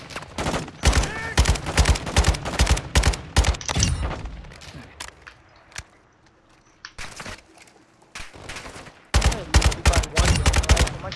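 Suppressive gunfire in the video game Call of Duty DMZ, clusters of loud rapid shots that stop for a few seconds of near quiet in the middle and then return in further bursts.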